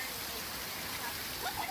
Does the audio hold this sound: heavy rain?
yes